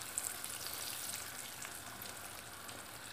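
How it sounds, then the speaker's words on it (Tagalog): Broccoli coated in flour deep-frying in hot cooking oil, giving a steady, moderately faint sizzle and crackle that runs unbroken through the whole stretch with no voices. "Dinidip fry ko siya sa mantika."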